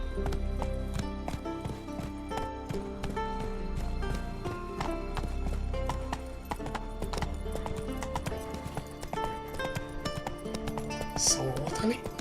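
Horse hooves in The Witcher 3 video game, a quick continuous clip-clop of galloping with occasional neighing and clinks of tack. A voice talks over them.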